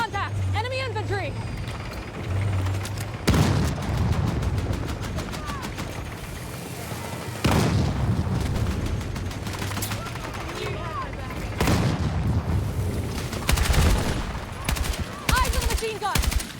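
Video game gunfire rattles in repeated loud bursts, with machine gun volleys and scattered shots alongside explosions, while voices talk throughout.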